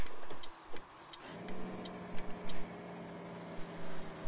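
A DAF XF truck with a crawler mod engages its engine brake in Euro Truck Simulator 2: a deep, steady low drone kicks in after a brief rougher start and holds to the end, with faint ticking clicks scattered over it.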